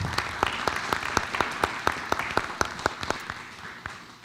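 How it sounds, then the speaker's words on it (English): Audience applause at a school board of education meeting: a sparse, scattered round of claps with sharp individual strikes standing out, fairly quiet and steady, tapering slightly toward the end. "Let's give Ms. Angie Bullen a round of applause."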